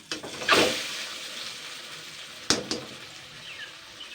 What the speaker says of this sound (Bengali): এইবারে যে জল ঝরিয়ে রাখা কচু শাকটা দিয়ে দিচ্ছি